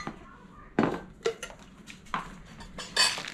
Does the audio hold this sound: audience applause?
no